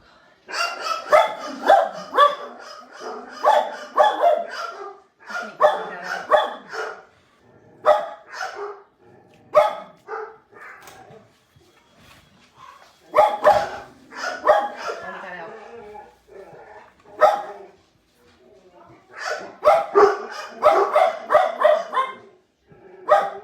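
Several household dogs bark and yip in repeated excited bursts, loud and close, with short pauses between flurries, while people talk intermittently over and between the barking.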